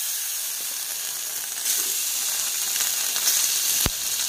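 Pork frying in a kadai with no added oil, a close, steady sizzle and hiss that swells slightly midway, ending with a sharp clink.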